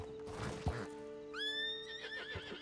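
A horse in Red Dead Online gives a loud, clear whinny with a rising, wavering pitch, preceded by a soft thud of a hoof, set against a steady game background hum.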